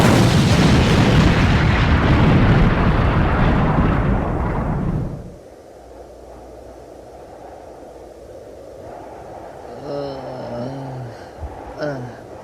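An animated bomb goes off in a trap, starting as a loud, roaring blast rumble that fades into a low hum, with faint voices and short tonal sounds near the end.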